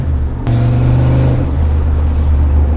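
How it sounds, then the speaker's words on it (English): A turbocharged C5 Corvette's engine revs up sharply, its deep, loud exhaust rumble climbing then settling back to a steady low drone close by. "It muffles a lot of the exhaust noise, but this is much more manageable than my car."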